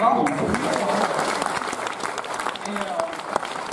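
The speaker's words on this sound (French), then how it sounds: "Tout le monde peut applaudir bien fort." An audience at a magic show applauds loudly on request, a dense patter of many hands clapping near and steady, with voices mixed in underneath.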